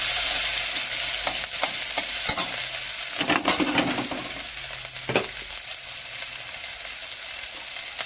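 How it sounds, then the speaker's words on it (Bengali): Masala with green chillies, salt and turmeric sautés in a pan for katla fish curry, a loud continuous sizzle with repeated spoon scrapes and knocks as it is stirred. "একটু লবণ দিয়ে মশলাটা কষে নেব।"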